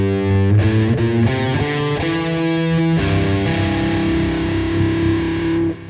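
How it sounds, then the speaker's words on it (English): Electric guitar with distortion and effects plays a major sixth interval, two notes struck repeatedly in a steady rhythm before ringing out in a longer sustained dyad, loud and close with no talk. "This is a major 6."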